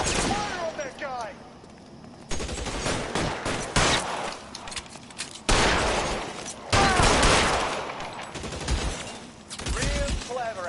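Gunfire in a shootout in LA Noire, bursts of rapid shots and sharp single cracks coming in several loud volleys, with voices talking between them.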